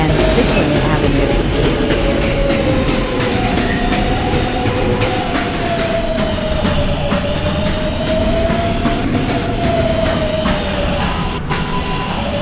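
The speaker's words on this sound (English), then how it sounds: "This is a Queens-bound Z skip stop train." A Queens-bound New York subway Z skip-stop train rides steadily on rails, a continuous loud rumble with rhythmic clickety-clack of wheels and a faint high wheel squeal running through the whole stretch, with no talk.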